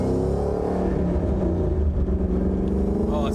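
Supercharged Ford Shelby GT500 with a Trinity blower swap running about 16 pounds of boost and around 720 wheel horsepower, its engine holding a loud, steady, close-up roar with a rising whine near the end.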